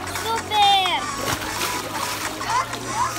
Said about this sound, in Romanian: hai să vă arăt cum ne bălășim noi